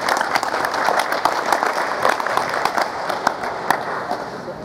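Sustained applause from an audience at a public felicitation event in Jalgaon, Maharashtra: dense, steady hand clapping throughout, with a few sharper individual claps standing out.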